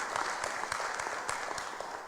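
Scattered applause follows a line in a speech in Taiwan, a fairly faint burst of claps with distinct individual hand strikes standing out over a soft, steady crowd clapping.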